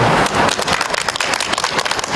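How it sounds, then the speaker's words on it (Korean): Applause welcomes a labor union speaker at an outdoor press conference: a short burst of dense, crackling clapping from a small crowd, loud and close, with no speech over it. "박수로 맞이해 주십시오"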